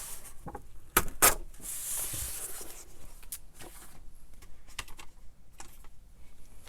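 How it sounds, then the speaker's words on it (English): A book page is torn off by hand in a quiet room, heard as a brief close ripping and rustle of paper among scattered soft taps and handling noises. "then I go ahead and tear this off"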